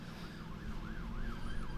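A wailing emergency siren rises and falls steadily over low engine rumble at an Ultra 4 off-road race, heard at moderate distance and continuing throughout without talk.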